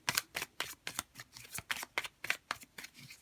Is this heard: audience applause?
no